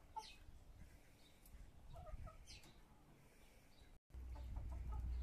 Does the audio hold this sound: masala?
no